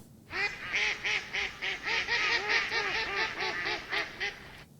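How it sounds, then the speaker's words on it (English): A female mallard gives a descending, laughing series of about a dozen loud quacks, close and alone, each call slightly weaker than the last. "it's a descending, laughing series of quacks"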